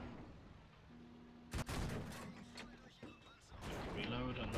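A tank gun fires in World of Tanks, a single sharp blast from a Marder 38T followed by mechanical rumble and clatter, with someone talking over it.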